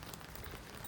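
Steady rain falls on a Tokyo street, a dense, even hiss of drops on hard surfaces without break and with no one speaking.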